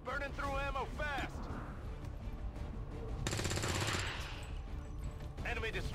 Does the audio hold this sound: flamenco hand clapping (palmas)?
no